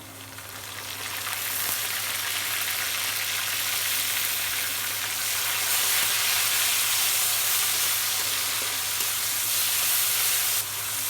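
Onions frying in oil left over from rohu fish, in a pan for bitter gourd chorchori, give a steady, loud, close sizzle and hiss that runs unbroken throughout, with no talking.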